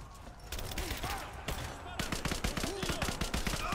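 Rapid bursts of gunfire in the video game Rise of the Tomb Raider, sharp repeated shots in quick volleys, loud and close throughout with a muffled voice in the background.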